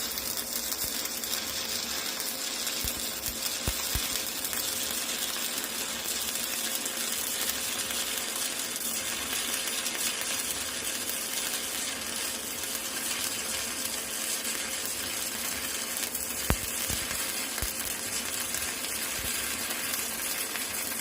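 Stick welding with a 7014 rod gives a steady, loud crackling hiss with a few sharp pops, running unbroken throughout.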